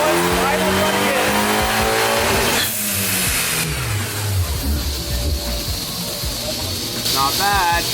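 A Fiat MultiAir engine with a big turbo runs loud on a dyno, revving up and down through harmonic sweeps with turbo hiss and steamy whoosh throughout.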